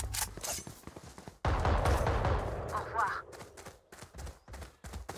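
Gunfire from the Valorant video game: bursts of shots in the first second and a half, then a dense, loud stretch of firing and impacts, with sharper sporadic shots near the end. People talk over it throughout.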